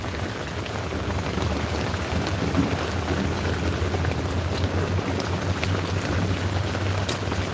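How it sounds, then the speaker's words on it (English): Heavy rain drums steadily on a tarp roof during a thunderstorm, a dense, constant close-up patter with a low rumble underneath and no speech. "because of all the rain hitting the tarp of the roof"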